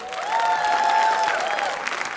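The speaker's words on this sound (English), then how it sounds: "So one round of applause for her." Audience applauding at a dance academy's summer funk show, a short swell of clapping with some tonal cheering over it that rises, holds and fades within two seconds.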